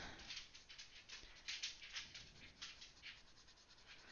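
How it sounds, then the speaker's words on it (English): A female dog whimpers and fusses indoors, giving soft, uneven, restless sounds at a moderate level with steady background noise throughout. "Don't mind the dog. She's being a pest."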